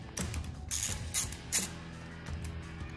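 A Wera ratchet handle with a magnetic bit holder is worked by hand, giving bursts of fine rapid clicking from the pawl, three or four short runs, close and crisp over a quiet background without speech.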